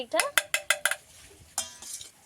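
A spoon stirs semolina with water in a pot, giving five quick, evenly spaced clinking scrapes, then a short pause and a longer, softer scrape near the end.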